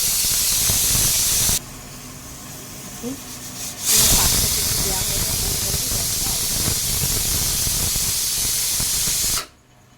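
Steam hissing from a pressure cooker whistle vent, a loud steady rush that cuts out briefly, surges back even stronger and runs on before stopping abruptly.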